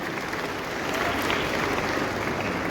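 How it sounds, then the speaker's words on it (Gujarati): A school annual function audience in Kadi gives dense, continuous applause, loud and sustained from start to finish with a steady crowd clapping texture. "તાળીઓના ગડગડાટથી ફરીથી વધાવીશું."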